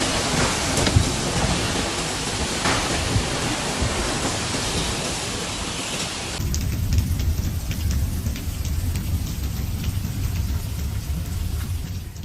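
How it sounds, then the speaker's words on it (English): Torrential rain pours steadily during a supercell storm in Argentina, a dense, loud, unbroken roar of water with no voices. "torrential rainfall accumulated rapidly, around 90 millimeters in a short period, overwhelming drainage systems and forcing water into houses"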